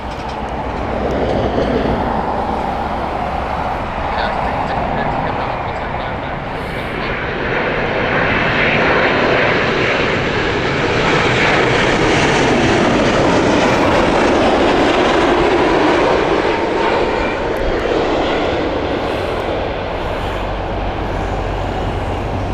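A United Airlines airliner in special livery passes with loud, sustained jet engine roar that builds, peaks midway and slowly fades, heard alone without talk.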